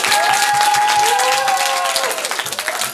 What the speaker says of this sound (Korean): 상공고 학생들한테 박수 한번 부탁드립니다.